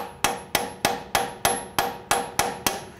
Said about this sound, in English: I'm gonna use our bearing driver and tap this in.